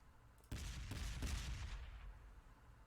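Mortar shells land in the video game Close Combat: The Bloody First, a muffled, distant cluster of three quick thumping impacts merging into a rolling rumble that fades away after a couple of seconds.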